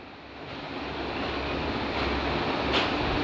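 A large, finely chopped onion fries in oil in a pan, making a steady, loud, even sizzle that fills the whole stretch, with no voices.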